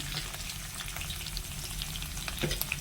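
Bottle gourd curry frying in a pan, with a dense, even sizzle and soft stirring scrapes close by, steady for a few seconds with no talking.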